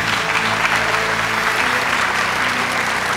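A hall audience at an education awards ceremony applauds warmly, a steady, loud wash of clapping from many hands that continues without a break.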